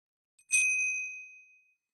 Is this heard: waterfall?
no